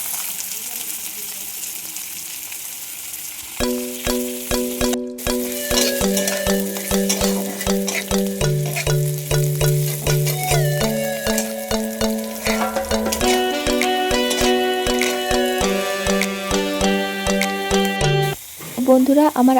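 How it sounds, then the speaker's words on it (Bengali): Potato pieces fry in oil in a wok with a continuous sizzle, stirred in quick, rhythmic scraping strokes, under a tonal melody. "তারপরে আমি তেলের উপরে দিলাম আলুর কাটাগুলো আমি দিয়ে দিলাম। এবার আমি এটা নাড়তে থাকবো"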